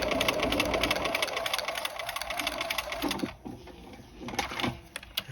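Close, loud whirring of a sewing machine stitching collar and lapel facings, running fast for about three seconds, then stopping and giving a few short stuttering bursts.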